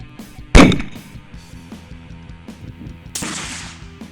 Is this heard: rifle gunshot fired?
yes